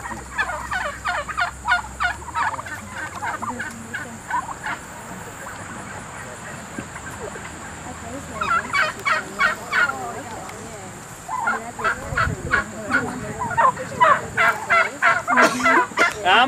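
Heritage turkeys gobble in repeated bursts, close and loud, with a quieter stretch of flock noise in the middle before the gobbling returns.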